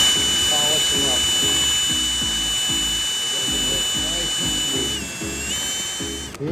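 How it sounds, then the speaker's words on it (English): A drill fitted with emery cloth spins at high speed, polishing the shift rail bores of a Dana 300 transfer case with a steady whine and rhythmic scraping pulses while someone talks over it. "Just take some emery cloth, stick it on the end of the drill,"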